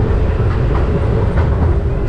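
Steady rumbling train ride at Legoland Windsor resort, a continuous loud low rolling drone with faint rattles and clatter running throughout, no talking.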